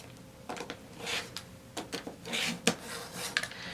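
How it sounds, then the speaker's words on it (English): Short scraping strokes and soft rasps come from trimming the excess fabric off a quilt block, a quiet, close, irregular series of cuts and rubs on a cutting surface. "I'm just going to trim off the excess."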